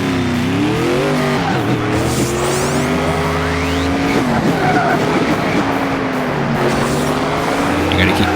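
Race cars in the Hot Wheels id video game roar and shift gears, with engines rising and falling and tires squealing in skids, while someone talks over the game sounds throughout.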